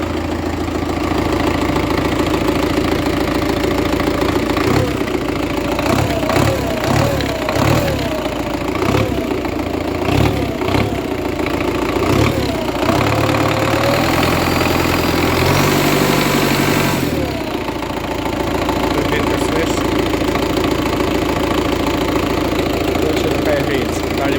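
A KIY 14102 vehicle engine idles with its turbocharger running, a steady mechanical hum with some uneven knocking pulses midway, heard close with people talking over it for much of the time.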